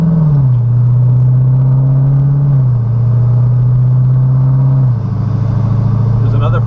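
A Dodge Challenger Hellcat engine drones steadily and loud at low revs while driving gently on cold oil, with a deep constant rumble that shifts pitch slightly as gears change.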